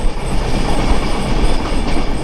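The Madhumati Express rumbles along the rails between Rajshahi and Dhaka, a loud, continuous roar of wheels and carriages heard from on board with no talk.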